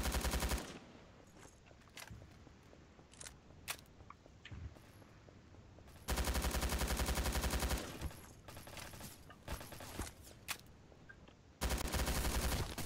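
Automatic weapons fire in Garry's Mod, heard as loud sustained bursts of rapid gunshots broken up by quieter stretches of single shots and clicks, with no talking.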